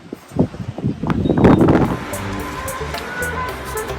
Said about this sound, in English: Always brings up lots of gusts of wind.